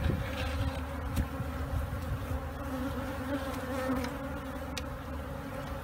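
A honeybee swarm being hived into a nuc box gives a steady, dense buzzing hum that stays close and constant throughout, with a few individual bees droning nearer now and then and no talking.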